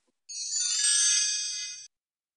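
A phone gives one bright electronic ringtone burst of about a second and a half, clean and close, with silence before and after.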